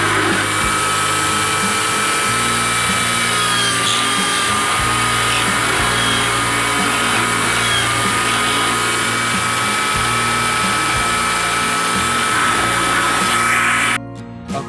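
Steady, loud whine of a power drill boring into a coconut shell being made into a ring, running continuously with slight pitch changes before stopping near the end.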